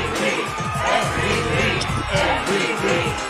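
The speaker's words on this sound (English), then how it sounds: "I hear the MVP chants from the crowd" A stadium crowd at a Green Bay Packers event chants "MVP" in a loud rhythmic roar with cheering mixed in, steady and sustained throughout.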